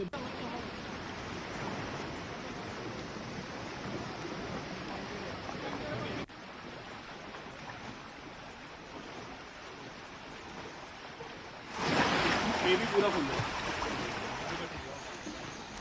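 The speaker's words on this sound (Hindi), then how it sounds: "ये आपको लग रहा है कोई नदी है या कोई नाला बह रहा है या कोई नहर बह रही है।" Floodwater surges through flooded streets and lanes in Jammu and Kashmir's Samba and Kathua area, a constant loud rushing wash like a river that grows stronger near the end.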